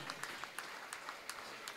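Scattered, quiet applause from an audience at a Tamil speech and poetry event in Manalurpettai, a sparse patter with a few distinct sharp claps standing out.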